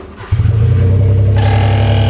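Keyless mini truck engine started by turning a screwdriver in the ignition: after a brief moment it catches and settles into a loud, close, steady idle, its tone brightening partway through, with no talking.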